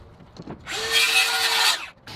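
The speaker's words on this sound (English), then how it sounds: "I'm cutting it with a circular saw" A circular saw cuts through a composite decking board on the ground: one short, loud, whining cut of about a second, with a quiet pause before and after.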